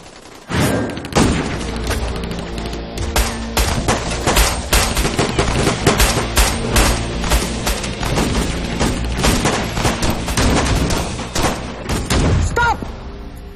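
Rapid, loud gunfire from an Indonesian comedy action film, sustained bursts of shots packed densely for over ten seconds with booming low thuds, tapering off near the end.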